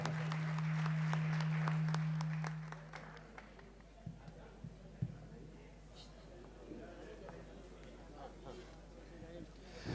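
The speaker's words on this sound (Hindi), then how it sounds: "जोरदार तालियां होनी चाहिए" Audience at a 75th birthday celebration claps loudly for about two seconds over a steady hum, then the applause fades into scattered taps and faint room noise.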